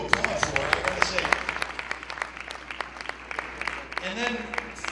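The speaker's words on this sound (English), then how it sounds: "that's good to applaud for" An audience applauds a state governor's speech on solar energy and clean energy careers, a scattered patter of claps under continuing spoken voices and fading toward the end.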